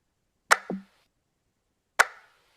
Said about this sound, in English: Kind of like a snare snappy sound, which is kind of gonna function as the main snare